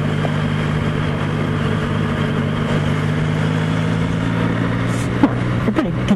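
A Yamaha MT-09 motorcycle engine drones steadily and close on a solo ride, a constant low rumble with a few brief bumps and knocks near the end.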